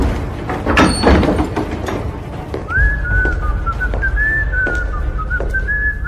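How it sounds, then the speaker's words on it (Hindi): A person whistles casually in a horror story drama, a door sound first, then a steady, wavering whistled tune carrying on alone for several seconds at close range. "आराम से सीटी बजाता हुआ"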